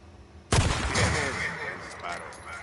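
A single loud gunshot in the video game Days Gone cracks out after a brief quiet moment, then rings and echoes away slowly.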